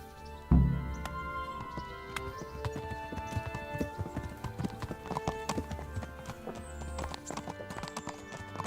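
Horse hooves clip-clop steadily in the medieval game Kingdom Come: Deliverance, a continuous rhythmic trot close by, layered over ambient outdoor game sound with no talk.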